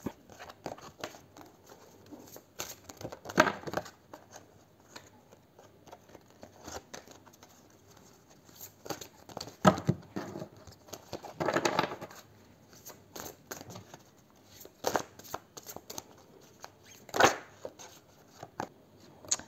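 Cards shuffled and drawn in a quiet room, scattered short rustling and snapping bursts spaced several seconds apart, fairly soft and alone with no voices.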